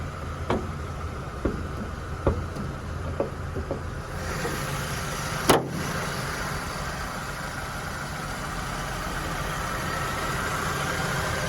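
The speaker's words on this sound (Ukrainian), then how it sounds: "Двигун працює рівненько." Audi A4 B6 with a five-speed manual gearbox and about 161,000 km on it, its engine idling evenly at a low, steady hum, with a few sharp clicks and knocks from handling near the car early on.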